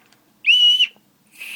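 A toy whistle is blown once in a shrill, steady tone lasting about half a second, followed by a quieter whistle starting at the very end, with near silence between them.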